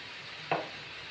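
Boondi batter of gram flour drops into very hot oil, giving a sharp, brief crackling burst over a steady, soft sizzling hiss.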